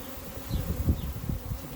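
Honey bees hum around an open hive during an inspection, a close, low, droning buzz that swells and dips in pulses without any talk.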